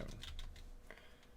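Fingers tap out a short burst of keystrokes on a computer keyboard while working in Unreal Engine, a few quick, close clicks with no voices.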